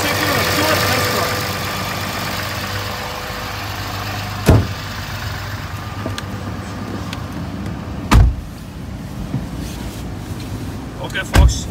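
A 2014 Dodge Ram pickup truck engine running at a steady low idle close by, with three sharp thumps like a door or handling knocks spaced through it.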